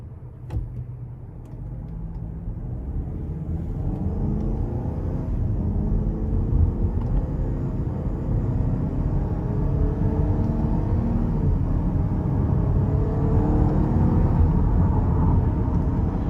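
Steady low road rumble from a 2023 Buick Envision Essence with a 2-liter turbo and 9-speed automatic, heard from inside the cabin while driving, a continuous engine and tire drone that builds slightly and holds with no talking.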